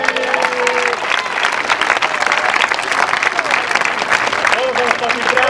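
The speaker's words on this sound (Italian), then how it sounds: "un applauso" Crowd applauding during a film shoot on Linosa, dense sustained clapping from a group of people for several seconds, with voices talking over it.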